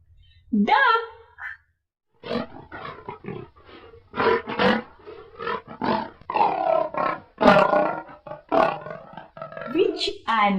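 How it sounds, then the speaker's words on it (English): A lion roars in a series of rough, throaty bursts separated by short pauses, loud and near, with a voice heard speaking among them. "Lion."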